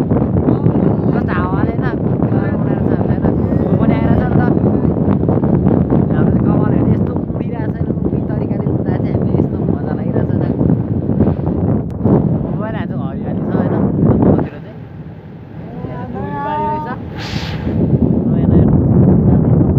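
Wind roars steadily against the microphone while riding in a vehicle, a loud low rumble that dips briefly midway, with people talking over it throughout.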